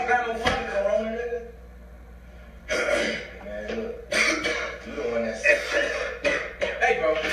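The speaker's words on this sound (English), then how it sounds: "You just coughed all on your hands." A few harsh coughs up close, one sharp burst early and more rough coughing mixed with people talking and shuffling.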